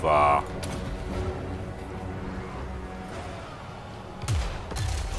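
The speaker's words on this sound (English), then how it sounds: "this cannon volley, basically damage them a little" Cannon volley fire in a Total War Warhammer III battle, with a sharp opening blast followed by a sustained rumbling battle bed and two more heavy booms near the end, heard under speech.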